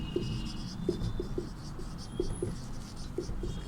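Chalk or a marker scratches across a classroom board in short, irregular strokes with small taps, close but faint against a steady room hum, and no one is talking.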